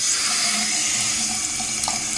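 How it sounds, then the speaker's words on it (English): Water running steadily from a sink faucet, a constant close hiss and splash with no voices, while parts are being washed. "Now turn your faucet on, preferably"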